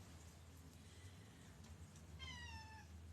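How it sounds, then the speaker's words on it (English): A cat meows once in a drawn-out, rising and falling call, faint over a steady low background hum, with no talking. "Meow."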